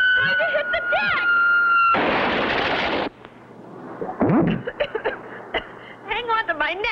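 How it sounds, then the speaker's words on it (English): A cartoon explosion from a 1959 animated series bursts as a loud noisy blast lasting about a second, followed by crackling pops, with tones and voices around it. "what an explosion"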